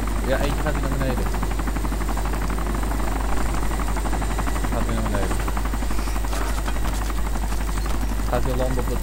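In the video game DayZ, helicopter rotors beat steadily and loudly without a break, a constant mechanical chop under intermittent Dutch speech from a player.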